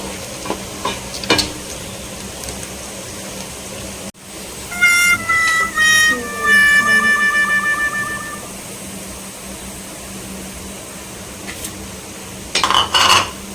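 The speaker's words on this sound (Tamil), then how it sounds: "ஆனியன் வந்து பார்த்தீங்கன்னா பொரிச்சிட்ருக்கேன்" Onions frying in a pan for a Hyderabad mutton biryani sizzle loudly while a metal spoon stirs and scrapes, with clinks at the start and short bursts of scraping throughout.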